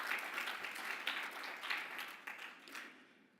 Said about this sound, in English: let's give it a big hand of applause